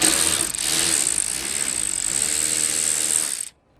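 A ratchet clicks steadily for about three and a half seconds, up close, while the taillight screws come out of a 2005 Chevrolet Silverado pickup, then it stops abruptly.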